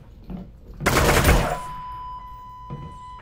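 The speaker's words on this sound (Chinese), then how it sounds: "我一直看不到他，然后突然就从我屁股后面开枪了。" Enemy gunfire in the virtual-reality shooter Half-Life: Alyx, a sudden loud, dense burst of rapid shots lasting under a second, followed by a lingering electronic hum and quieter thuds.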